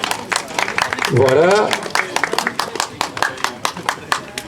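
Crowd clapping for the podium winners at an amateur FSGT cycling race at a village summer festival in Arthès, steady applause running under a voice over the loudspeaker, with a brief rising whistle-like tone near the middle.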